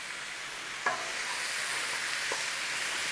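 Vegetables stirred through butter in a soup pot for a chicken noodle soup, a quiet steady sizzle with two soft scraping strokes of the spoon, no voices.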